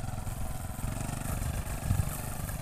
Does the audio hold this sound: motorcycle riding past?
yes